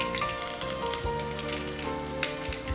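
Curry leaves dropped into hot oil already tempered with mustard and fenugreek seeds for Kerala pulissery, giving a loud, continuous sizzling hiss with scattered crackles close up, no voices.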